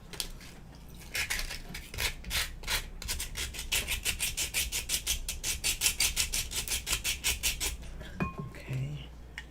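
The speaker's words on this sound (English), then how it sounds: "I'm going to go ahead and sand this some more." Hand sanding of a Dollar Tree resin craft piece, steady rhythmic back-and-forth rasping strokes, close and continuous for several seconds before stopping.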